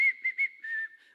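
Someone whistles an imitation of the old PC Richards store radio jingle, a short bright tune of a few clear notes, close and alone.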